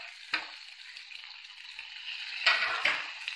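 Grated coconut and mixed vegetables frying in a pan for chutney, giving a soft, steady sizzle with a few brief stirring scrapes and clatters.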